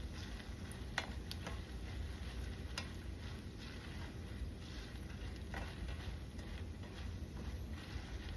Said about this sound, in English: And you just keep stirring and stirring.